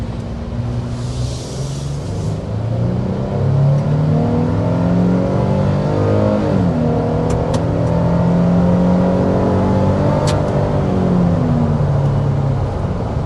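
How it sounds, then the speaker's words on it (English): A 2025 Nissan Frontier PRO-4X pickup with its V6 under hard acceleration, the engine climbing through the revs with a gear change partway, then pulling strongly again. Loud, steady and close, heard from inside the cab with no talking. "But first, we want to go ahead and start by giving you a hard acceleration."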